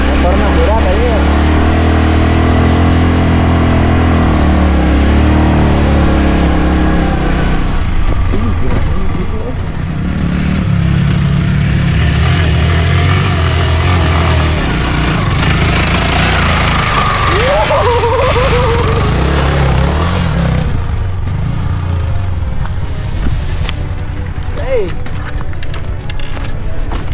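A heavily loaded motorcycle strains up a steep hill trail near a bridge and a ravine. Its engine drones loud and close throughout, mixed with wind and rough-ground noise, while riders talk over it.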